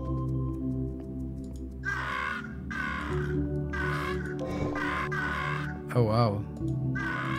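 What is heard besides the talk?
crows cawing in the video game Monument Valley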